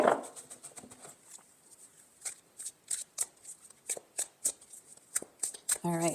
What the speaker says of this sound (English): These are a little bit harder to shuffle, so you'll have to excuse me.